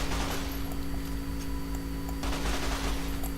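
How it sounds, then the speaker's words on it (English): A full-auto converted weapon in Fallout: New Vegas fires a continuous rapid stream of shots, steady and loud for a few seconds without pause. "It can shoot its whole mag very quickly indeed."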